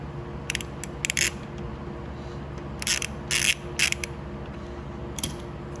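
A ratchet wrench loosens a 14 mm bolt on the rear shock of a Honda Navi, giving short bursts of sharp clicking pawl ratchets in quick clusters over a low, steady background hum.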